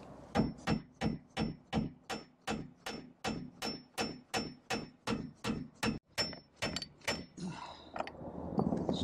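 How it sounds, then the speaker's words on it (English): A drain on a torch-down roof struck repeatedly to break it, with about twenty sharp, evenly spaced hammer-like blows in a steady rhythm, loud and close, followed by a brief rustle. "I'm gonna try and break it now."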